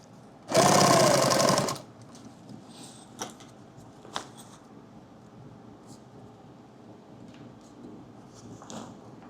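Sewing machine stitching a laptop bag in one loud, close burst of about a second of rapid whirring stitches, followed by quiet handling clicks and small knocks of fabric and parts.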